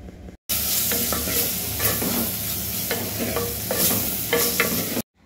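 A spoon stirs coriander powder and black pepper powder through hot oil in a clay mud pot, giving a steady close sizzle of frying with repeated scraping strokes throughout and no voices.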